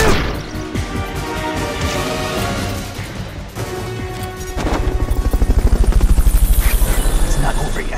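Video game helicopter after a Fulton recovery, a loud close rotor drone with thumping hits and crashes, its rhythmic chop growing stronger and faster toward the end.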